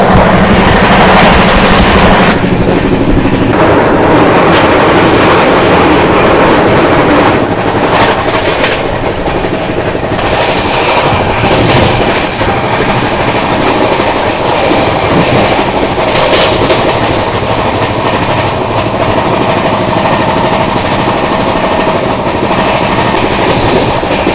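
The Pune–Jammu Tawi Jhelum Express runs loudly on the rails, with a continuous close rumble, clickety-clack of wheels over joints and rattling of the carriage throughout.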